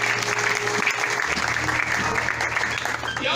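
Church congregation applauding and cheering together, a dense steady wash of clapping with music and a voice underneath.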